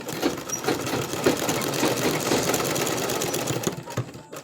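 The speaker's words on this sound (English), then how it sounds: "If you want to stitch all through, you can still do it, but I'm just stitching just the upper part." Sewing machine stitching a trouser welt pocket, running steadily and close with a dense, rapid mechanical chatter throughout, slowing to a stop at the end, with no talk.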